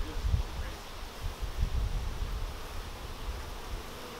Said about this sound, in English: Well, we got a few bees there.